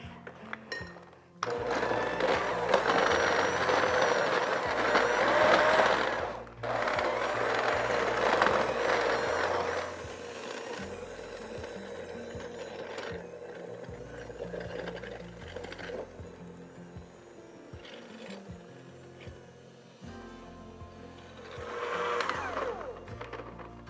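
An electric hand mixer whirs steadily through a gingerbread dip flavored with cinnamon, ginger and nutmeg, loud and close for several seconds, then continuing at a lower, uneven drone with brief pauses before rising again near the end.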